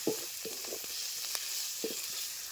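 Eggs frying in oil in a pan at an outdoor forest picnic, a steady hiss with a few soft scrapes and taps of the utensil, no voices.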